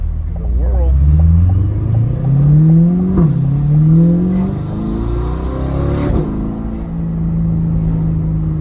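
A C8 Corvette with a titanium exhaust revs up and down through several rising and falling sweeps, loud and close, with people talking over the engine.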